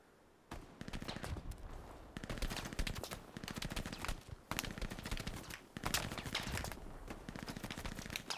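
Rapid automatic gunfire in a first-person shooter, loud and close, in several long bursts of fast rattling shots separated by brief pauses.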